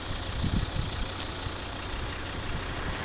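A 2011 Volvo V50 2.0 D3 diesel idles smoothly and quietly, a steady low engine hum with a faint knock, heard close with no voices.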